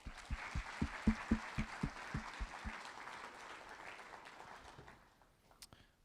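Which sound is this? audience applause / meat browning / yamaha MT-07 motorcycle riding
audience applause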